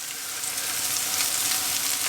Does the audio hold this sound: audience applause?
no